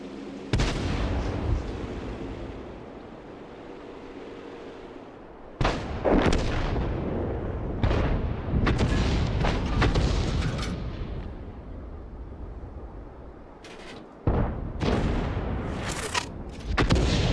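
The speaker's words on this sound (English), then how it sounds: "Oh, I just fired." Tank cannon fire in World of Tanks: several loud, booming shots with sharp onsets, spaced a few seconds apart and each trailing into a rumbling decay, with continuous battle noise between them.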